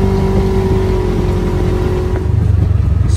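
Polaris RZR side-by-side engine revving loudly up close with a steady mechanical drone, then a rough, pulsing throttle as it pulls away.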